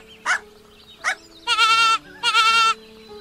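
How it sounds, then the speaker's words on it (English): An injured baby goat cries with two short bleats followed by two longer, wavering bleats, loud and close with no voices. "The baby goat is crying."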